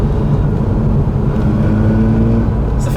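Loud, steady drone of a Mazda RX-8 rotary engine fitted with a sport exhaust, heard from inside the moving car, a low humming rumble with a faint whirring layer and no talking.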